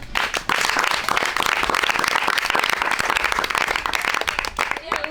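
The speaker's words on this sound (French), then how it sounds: "un gros applaudissement." Young members of an association in Haiti give a round of applause, a dense, crackling burst of many hands clapping close by that holds steady after a brief start and tails off slightly at the end.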